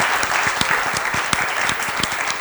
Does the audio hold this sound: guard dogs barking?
no